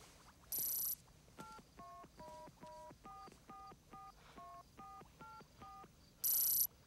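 A short run of telephone DTMF keypad tones, about a dozen evenly spaced beeps at close range, with a brief high electronic tone before and after the sequence, heard in a 1994 horror film.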